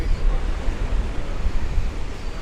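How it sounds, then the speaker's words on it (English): Sea waves surging and washing in continuously at the seaside by an old pier in Felixstowe, a steady low rumbling roar with wind noise over the microphone and no talking. "listen to the sound of the waves"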